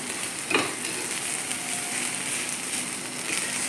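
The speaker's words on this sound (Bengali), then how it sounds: "হাঁসের ডিম আর মুরগির ডিম একসাথে ফ্রাই করেছি, মিশিয়েছি" Duck eggs and chicken eggs fry together in a pan with a steady, close crackling sizzle, broken now and then by a spatula stirring through.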